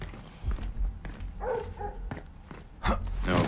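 Dog barking in the stealth video game Splinter Cell: Blacklist, a few short barks mixed with soft footsteps and game ambience at moderate distance.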